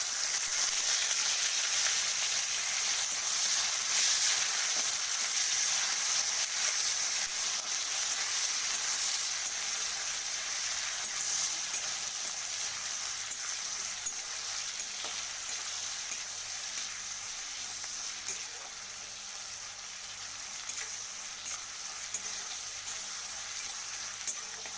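Chopped onion fries in a pan, browning for a duck egg curry, with a continuous bright sizzle and occasional faint stirring clicks, no voices.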